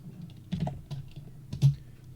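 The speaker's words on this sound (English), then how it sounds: "I'll type in the @ symbol, then 100 and then 0" Keystrokes on a computer keyboard while entering coordinates in AutoCAD, a few separate taps with two firmer clicks, close and moderately loud with no talking.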